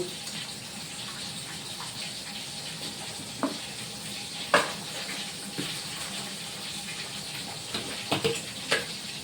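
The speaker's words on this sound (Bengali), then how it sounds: "মাংসটা মিক্স করবো এখন ডাইরেক্টলি" Meat stirred in a cooking pot over a steady sizzle, with scattered scraping and clinking knocks from a spoon against the pot, moderately close.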